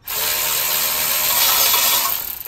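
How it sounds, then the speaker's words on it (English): A Milwaukee power tool loosens a strut fastener on an 8th-generation Honda Civic, giving a loud, steady high whine that runs about two seconds and then sputters into a rattling stop. No one speaks. "my Milwaukee, and we're going to loosen it"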